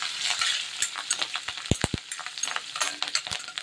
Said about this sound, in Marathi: नंतर हिरवी मिरची टाकायची आहे कट केलेली. छान असे हलवून घ्यायची